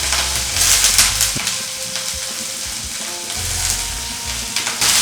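Broccoli pieces frying in hot oil for a broccoli egg omelette, a loud continuous sizzle with bursts of crackle and a few scraping stirs of a utensil in the pan, no talking.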